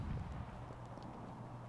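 Horse hooves clip-clopping in the video game Rise of Liberty, a quick muffled patter of steps at moderate distance with soft wind noise, no voices.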